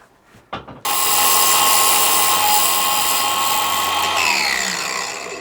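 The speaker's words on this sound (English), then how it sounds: "So we'll fire the TIG up, see if we can weld it onto there." A TIG welder strikes an arc to weld a broken stud on a traction engine water gauge. A few soft clicks come first, then a loud, steady electric buzz holds for about three seconds before tapering off.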